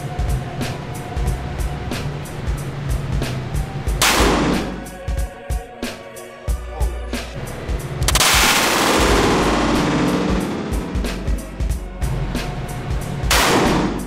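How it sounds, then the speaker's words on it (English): Heavy gunfire from the Call of Duty Modern Warfare 2 video game rattles loud and close, with bursts of rapid automatic shots broken by bigger booming blasts and short pauses. "it's time to shoot a big gun"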